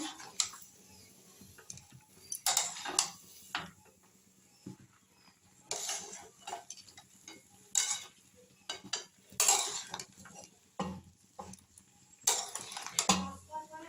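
Mixed vegetables being stirred and sautéed in a pan, heard as intermittent bursts of spatula scraping and clinking against the metal, close and moderately loud, separated by quieter pauses.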